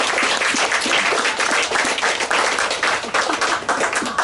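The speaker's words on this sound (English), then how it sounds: "Well done, Ben. Round of applause." Wedding guests give a round of applause: dense, lively clapping from a roomful of people fills the whole stretch at a loud, steady level.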